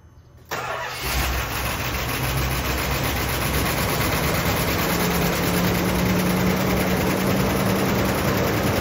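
A 1966 Imperial Crown's engine starts abruptly and settles into a steady, loud idle, a continuous rumbling hum that holds unchanged to the end.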